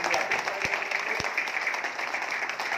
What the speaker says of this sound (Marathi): आपण सगळ्यांनी टाळ्या वाजवाव्यात